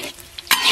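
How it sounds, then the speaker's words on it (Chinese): Beef tallow frying in plenty of oil in a wok, a short burst of sizzling with a scrape of stirring and a sharp rise in hiss near the end. "问老板要了些牛油，也下进去炸一下，炸出牛油，"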